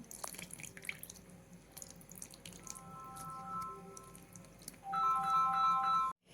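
Boondi batter water trickles and drips steadily as it is strained, with a short electronic melody chiming in near the end.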